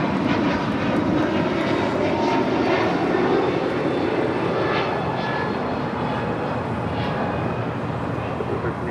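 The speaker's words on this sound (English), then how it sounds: "That was JetBlue 1388 departing to Boston on an A321neo, brand new, delivered in June this summer." JetBlue Airbus A321neo, brand new, departing LAX for Boston: a steady, loud broadband jet engine roar that holds throughout, close and continuous, with faint voices underneath.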